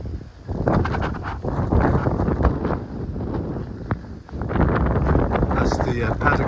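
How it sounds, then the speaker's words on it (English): Strong wind buffets the microphone outdoors at a hilltop property near a paddock, a continuous loud rumbling roar with gusts that rise and dip, while a person talks over it throughout. "sorry about the wind"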